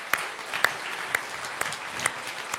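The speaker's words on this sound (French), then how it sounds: "on peut les applaudir" Audience at a national science competition final applauding students, a thin scattering of claps with a few sharp, distinct hand strikes standing out over a soft background of clapping.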